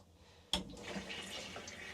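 Fresh water from the onboard tanks of a Hallberg-Rassy 34 sailboat starts running abruptly after a half-second of quiet, then flows steadily as a soft, continuous tap-like rush with no talk.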